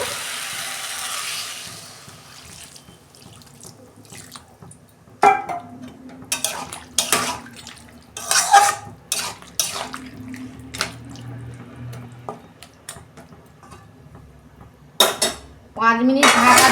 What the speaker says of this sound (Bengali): আমি অল্প জল দেবো।